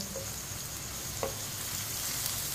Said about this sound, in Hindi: इसे लाजमी चम्मच चलाते हुए पकाना है, नहीं तो एक साइड से तोरी कच्ची रह जाएगी